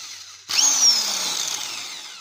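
An Elitech 350RE electric impact wrench, now worn with heavy play, starts abruptly and runs steadily with a whining motor drone and faint slowing pitch, loud and close, with no talk.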